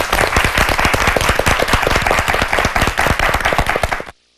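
Audience applause at a Korean high school debate competition, dense steady clapping from a seated crowd that runs without pause for about four seconds and then cuts off sharply.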